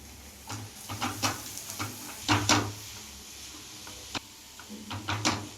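Chopped onions stirred into hot oil in a pan as they fry toward brown, with repeated scraping and clattering strokes of a spoon over a steady low sizzle, no talking.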